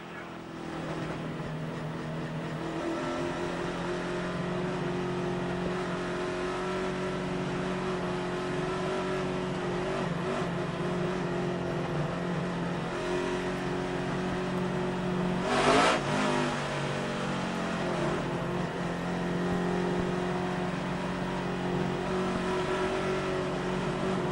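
Race cars idle and rev together at a NASCAR-style event before the 2005 Chevy Rock & Roll 400 start, a steady droning mass of engines with a brief louder surge midway, heard from a distance.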